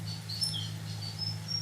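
Birds chirp faintly in a garden in the Algarve, Portugal, a few short high calls scattered over a steady low hum, distant and thin with no one speaking.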